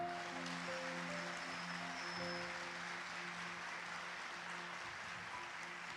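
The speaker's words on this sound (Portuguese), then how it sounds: "Aplauda isso em nome de Jesus" A church congregation applauds during a sermon, a dense, continuous wash of clapping with a low steady hum beneath, heard faint and at some distance.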